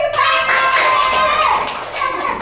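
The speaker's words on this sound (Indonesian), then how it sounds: "Tepuk tangan" Children in a classroom math lesson clap their hands together in a quick burst of taps, mixed with young voices close by.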